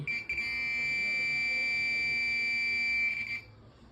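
A metal detector sweeps over a small silver bangle and sounds a continuous high-pitched beep. The beep starts just after a brief stutter, holds steady and loud for about three seconds, then cuts off.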